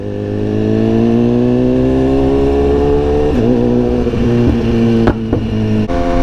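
A group of sport bikes cruises down a highway at sunset, a loud steady engine drone from close riders with gear changes and brief revs over wind noise.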